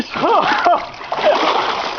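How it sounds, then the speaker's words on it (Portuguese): Water splashing and sloshing after a belly-flop jump, close and loud, mixed with boys shouting and talking excitedly over it. "Que barrigada, ele caiu de barriga."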